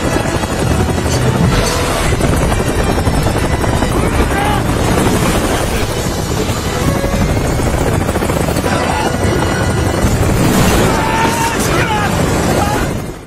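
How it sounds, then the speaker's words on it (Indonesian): A helicopter roars loudly and continuously nearby, its rotor thrum and engine noise filling the whole clip until it cuts off at the end. "Dan mereka berenam pun berangkat menggunakan helikopter."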